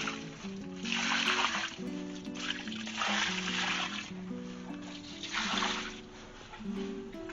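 Nitrogen tea fertilizer poured onto garden soil, three surging splashy gushes of liquid over several seconds, close and moderately loud, with faint voices and tonal background sound underneath.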